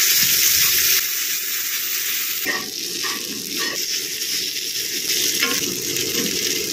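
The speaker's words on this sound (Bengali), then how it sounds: "অল্প একটু খানি জল দিয়ে মশলাটা কষিয়ে নিচ্ছি।" A ground paste of cumin, coriander, ginger and green chilli sizzles in a pan with a splash of water, a loud continuous hiss with a few brief stirring scrapes.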